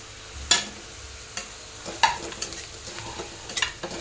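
Grated dried coconut is stirred into browned onions frying in oil for a Maharashtrian shev bhaji, giving a faint sizzle under several sharp, scattered scrapes and clinks of a spoon against the pan.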